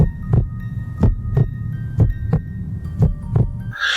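A pounding heartbeat sound effect thuds steadily, each beat a deep, close double thump repeating at a quick, even pace over a low throbbing hum.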